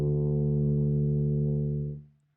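A tuba sounds a single sustained low D, fingered with first and second valves, a steady loud tone holding for about two seconds before it fades out.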